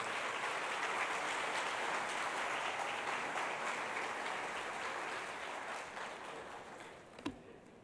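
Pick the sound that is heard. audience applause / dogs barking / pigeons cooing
audience applause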